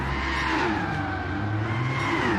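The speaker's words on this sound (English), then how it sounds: "Great big piles of handbrake coming across the line." RC race cars handbraking across the finish line at a Catalunya junior race: a steady high-pitched buzz of small electric motors with tire scrubbing and skidding, close and continuous, with no talk.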